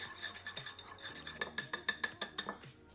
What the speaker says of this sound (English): I'm gonna whisk this.